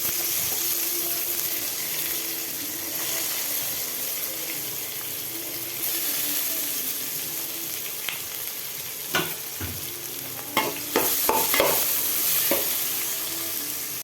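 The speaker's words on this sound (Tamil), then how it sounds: "வெங்காயம் நாலு நறுக்க வச்சு வெங்காயம் ஆட் பண்ணிக்கிறேன்" Onions frying in a pan with curry leaves and round dried chillies for a chicken curry, a steady soft sizzle throughout, with a few sharp clinks and stirring scrapes toward the end.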